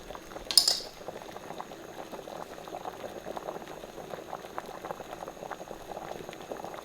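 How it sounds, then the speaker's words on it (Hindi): Potato wedges boil in water in a pot, giving a soft, steady bubbling close by, with a brief metallic clink near the start. "3 मिनट हो गए इसको बॉईल होते हुए।"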